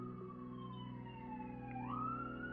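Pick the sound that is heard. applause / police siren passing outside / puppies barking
police siren passing outside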